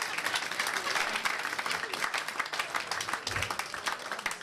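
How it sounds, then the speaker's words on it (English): Applause from a comedy club crowd greeting a comedian's girlfriend, a dense, sustained wash of many hands clapping steadily throughout, with a slight swell near the end. "Give her a round of applause."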